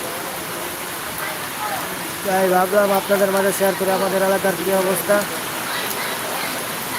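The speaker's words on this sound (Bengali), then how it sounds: "দেখেন সকাল থেকে সুপরিমাণ বৃষ্টি হচ্ছে" Heavy rain pours steadily over a neighbourhood, a constant broadband hiss throughout, while someone talks over it in the middle stretch.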